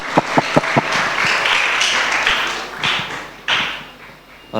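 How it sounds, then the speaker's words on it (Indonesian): A crowd claps at a Christmas gathering in Singapore, opening with a few sharp separate claps before swelling into a broad, steady round of applause that tapers and breaks off near the end. "Mari kita tepuk tangan."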